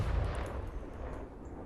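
A cannon fires in the Napoleonic-era multiplayer game Holdfast during a competitive finals match, a heavy low boom followed by a long rumbling decay, with no talk over it.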